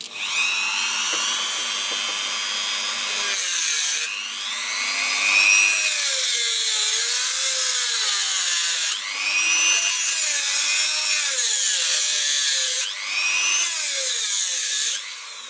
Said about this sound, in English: I do my new cutting in here, in that position, and then I start my Dremel.